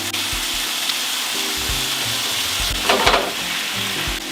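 Crushed tomatoes sizzle and fry in hot olive oil in a pan, a constant bright crackle with soft stirring and squashing knocks underneath, close and steady with no voices.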